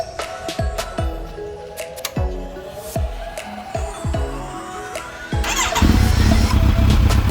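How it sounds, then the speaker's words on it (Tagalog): A Kawasaki Z900RS inline-four 948cc motorcycle engine is blipped nearby in a series of sharp revs with pauses between them. It then rises into a louder, sustained rev near the end. "dito naman tayo ngayon sa Kawasaki Z900RS. So inline 4 948cc to be exact."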